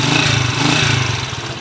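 A TMX155 motorcycle engine with a noisy fault, idling rough and close in a short uneven burst, with a throbbing low rumble and a rattly mechanical edge.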